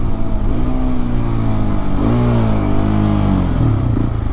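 A Hero XPulse 210 motorcycle engine runs loudly and steadily up close, its pitch dropping and rising as the rider downshifts through the gears, with no talking.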